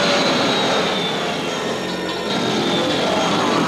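A loud, steady roar of a failing aircraft engine fills the whole stretch with a dense whine and no pauses.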